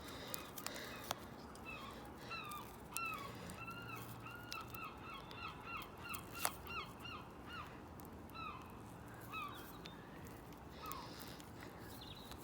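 Birds being fed sunflower seed, a faint distant chorus of repeated honking, cawing calls scattered over steady outdoor background noise, with occasional sharp clicks nearby.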